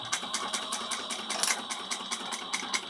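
A sewing machine stitches fabric for a small bowler bag, its needle driving a fast, steady, even clatter of repeated stitches, close and continuous with no talking.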